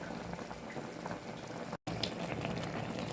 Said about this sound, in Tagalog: Kumukulo na.